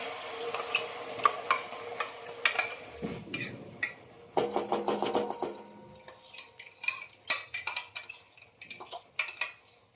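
A metal spoon scrapes and clanks against a pan as masala is stirred in hot oil for a mutton curry, with repeated close scraping strokes over a faint sizzle.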